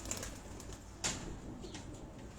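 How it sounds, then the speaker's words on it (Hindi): A breeder's pigeon gives soft, low coos close by, faint and intermittent, with a brief rustle partway through and a quiet background. "अब ये दोस्तों एक और कबूतर है"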